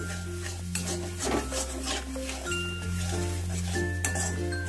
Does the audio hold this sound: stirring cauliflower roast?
yes